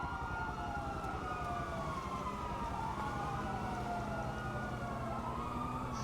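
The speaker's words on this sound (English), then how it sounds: "That's a chorus of sirens." Several police sirens wailing together in GTA V, their sweeping tones overlapping at a distance, faint and continuous over a low rumble of traffic.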